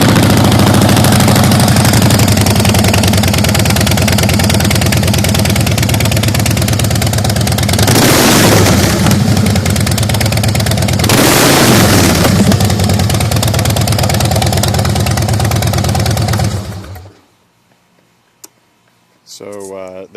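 A 2007 Night Train motorcycle engine starts and settles into a loud, steady idle with two brief revving surges, close up, then cuts off abruptly, followed by near silence and a brief voice at the end.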